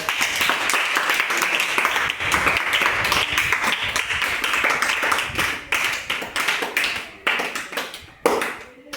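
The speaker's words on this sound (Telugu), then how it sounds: "ఓకే వెరీ గుడ్ క్లాప్స్ మా." A class of children clapping together during a maths tables activity, a dense, continuous burst of many small hands that loosens into scattered, uneven claps toward the end, close and fairly loud.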